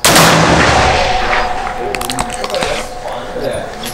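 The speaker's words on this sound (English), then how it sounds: "Okay, that was the first shot." A single loud, close gunshot comes from a Thompson Contender rifle chambered in 7mm International Rimmed, firing a test load at an outdoor range. A sharp blast is followed by a decaying rumble and a faint ringing tail.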